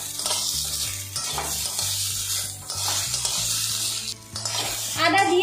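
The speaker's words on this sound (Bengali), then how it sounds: "আদা আর কাঁচা লঙ্কাটা ভালো করে আমি একটু ভাজা ভাজা করে নেব" Ginger and green chili paste fries in a pan with a steady sizzle, broken up by the repeated scrape and clink of a spoon stirring against the pan, close and fairly loud, no voices.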